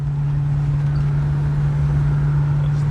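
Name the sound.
classic car driving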